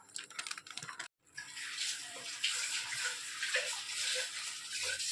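Water is poured into a bowl of maida, fine semolina, turmeric and salt for obbattu dough, a steady splashing trickle after a brief pause, fairly close and alone without talk.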